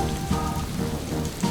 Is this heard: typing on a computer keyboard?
no